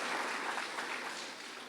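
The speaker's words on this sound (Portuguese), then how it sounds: "Pode aplaudir o Senhor Jesus, aleluia." A church congregation claps steadily during a worship service, a brief burst of dense, even applause filling the room.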